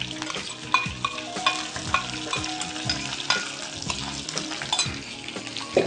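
Green chillies and shallots sautéing in a pan crackle softly and steadily up close, punctuated by a rhythmic series of spoon scrapes and taps against the metal as they are stirred.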